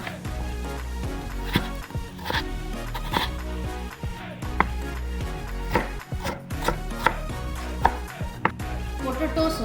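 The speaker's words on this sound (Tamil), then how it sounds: "ஸோ பொட்டேட்டோஸ் வந்து பொடி பொடியாக நறுக்கிடலாம்" Knife chopping potatoes finely on a board for Maharashtrian poha, a steady run of close, crisp cuts over light background music.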